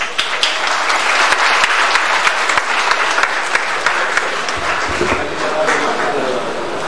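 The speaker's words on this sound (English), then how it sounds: "So please a round of applause for him." Conference audience applauds with dense, sustained clapping close by for several seconds, fading slightly toward the end, with faint talk beneath.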